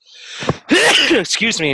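A single sharp sneeze bursts out near the mic, followed at once by someone speaking close up.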